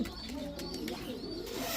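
Pigeons, including female Sirazi and silver Sirazi birds, coo at a busy pigeon market, their soft repeated coos steady and close over a dense background murmur.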